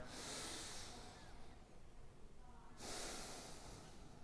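Two long, deep breaths pass through the nose, soft airy rushes a couple of seconds apart, heard close up in a quiet room during a golf stretching session.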